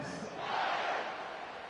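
A home crowd at a football game cheers in a broad, distant roar that swells and fades over a couple of seconds, with no single voice standing out.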